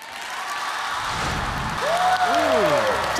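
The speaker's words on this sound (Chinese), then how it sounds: "掌声鼓起来啊" A studio audience on a Sichuan cooking show applauds steadily for a few seconds at moderate volume while a presenter speaks over the clapping.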